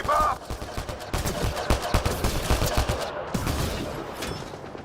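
Gunfire in the video game Mass Effect Andromeda comes as dense bursts of rapid shots, loud and crackling and close, with a voice partly audible under the shooting.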